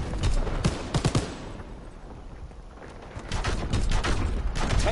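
Rapid machine gun fire from a mounted MG in a multiplayer war shooter, sounding as dense loud bursts at the start and again near the end, with quieter rumble between and battle noise throughout.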